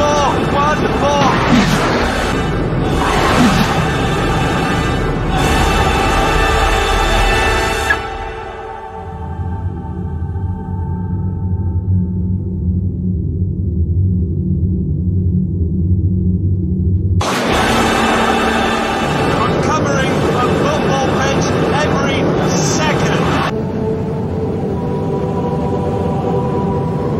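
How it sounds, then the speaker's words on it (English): A car engine at very high speed roars loud and close in a sustained, rising whine. It drops into a lower steady drone mid-run, then surges back to full howl, with a voice talking over it. "this engine is sucking in as much air in a minute as I breathe in 4 days"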